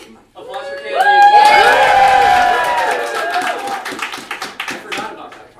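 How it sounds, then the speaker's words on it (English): An audience claps and cheers at a work-in-progress performance, with a burst of crowd noise and whoops over excited voices that gives way to scattered claps. "Applause for Candy."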